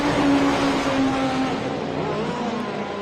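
A top bike drag racing motorcycle engine roars steadily at high revs, tearing past at speed with a sustained, slightly falling drone.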